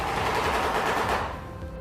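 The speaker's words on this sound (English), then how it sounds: "Its call can resemble rapid, harsh clapping and has been compared to the sound of gunfire." A shoebill stork clatters its bill in a rapid, harsh burst like gunfire, loud and dense for over a second, then tapering off.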